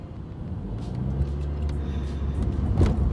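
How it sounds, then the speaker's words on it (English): A car passes close by on a road in Florida, its engine rumble and tire roar swelling steadily and loudly over traffic noise, with no talking. "this car just almost freaking hit me trying to jump across."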